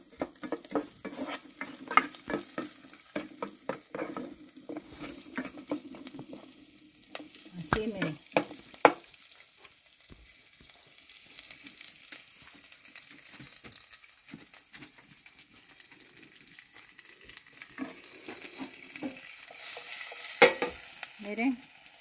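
Onion frying in hot oil for a shrimp broth, stirred with a utensil: soft sizzling under repeated scraping and clinking strokes against the pot, close and intermittent, with a louder burst near the end.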